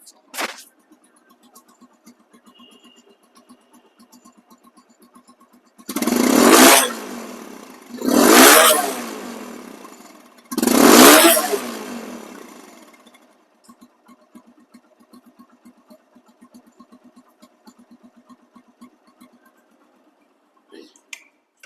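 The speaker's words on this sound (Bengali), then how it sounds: "সাউন্ডটা দেখছেন একদম শোরুম কন্ডিশন সাউন্ড" A used RTR 160 cc 2V motorcycle engine is revved three times in quick succession, each rising burst loud and rasping before falling back to a quiet, ticking idle with faint clatter.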